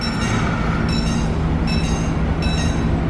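Steady loud rumble of a KRL electric commuter train departing from a station platform, with a continuous mechanical drone and faint high whine, close by and unbroken.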